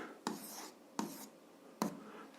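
Three quick, scratchy pen strokes of someone writing an algebra equation, each a short burst at an even pace, close up and fairly quiet with no talking.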